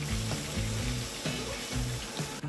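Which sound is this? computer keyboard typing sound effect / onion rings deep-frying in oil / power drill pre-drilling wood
onion rings deep-frying in oil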